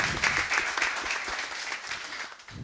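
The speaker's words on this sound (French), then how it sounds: "Merci de faire un tonnerre d'applaudissements" A short round of audience applause at a Congolese leadership talk event, moderately faint scattered clapping from a small crowd over a few seconds.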